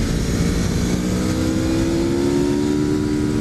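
An Aprilia RSV4R sport bike roars at steady high revs around Thunderhill's 5-mile track, the engine note rising slightly under continuous loud wind and engine noise.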